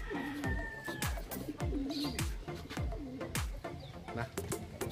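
Pigeons kept for racing, a future champion breeding bloodline, coo repeatedly in a loft, with soft low rolling calls coming in a steady rhythm close by.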